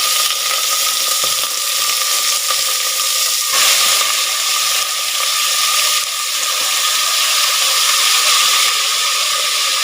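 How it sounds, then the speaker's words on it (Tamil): Mutton pieces fry in hot sesame oil, a loud, steady sizzle with a brief surge partway through as the meat settles, continuous and close with no voices. "எண்ணெய் காஞ்சிருச்சு. மட்டன் எடுத்து சேர்த்துடலாம்."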